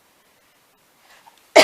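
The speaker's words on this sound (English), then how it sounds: "Excuse my cough." A single short, sharp cough bursts out at the very end after near silence, close and fairly loud, from someone with allergies in an office being remodeled.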